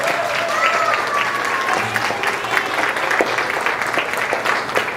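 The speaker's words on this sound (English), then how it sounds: "Let's give her a round of applause." An audience at an early childhood center event applauds the organizer, a loud, sustained wash of clapping that holds steady for several seconds.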